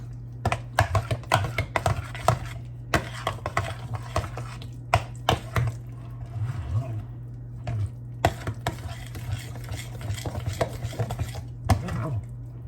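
Salted lasagna filling with ricotta cheese being mixed in a bowl, with repeated clinking and scraping strokes against the dish over a steady low hum, close and moderately loud, with no talking.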